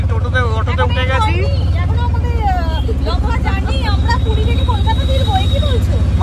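An auto-rickshaw rides through traffic with a low, steady engine rumble, while a person talks over it continuously.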